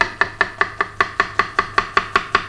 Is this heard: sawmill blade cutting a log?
no